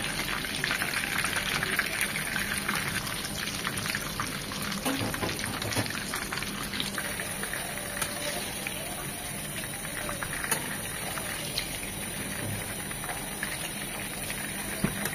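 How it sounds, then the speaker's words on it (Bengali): A burger patty fries in oil in a pan over low to medium heat, giving a steady, dense sizzle and crackle throughout, with a voice talking over it. "4 থেকে 5 মিনিট এক পাশটা ভেজে নেব।"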